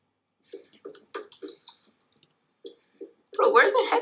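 A computer keyboard clicks in quick, close, sharp bursts of keystrokes separated by short pauses, ending in a louder cluster of clatter.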